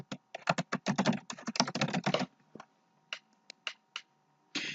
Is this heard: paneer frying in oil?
no